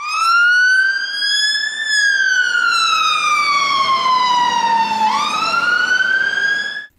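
A toy fire truck siren wails, sweeping up and down in pitch, loud and close, with an electronic toy-like tone, then cuts off abruptly.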